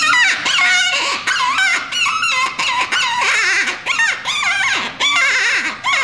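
A preformed plastic predator call imitating a distressed cottontail rabbit, blown in a continuous run of high, wavering squeals and cries with brief breaks between bursts, loud and close.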